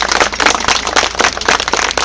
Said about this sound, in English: I think the Quakers of Youghal deserve a big round of applause.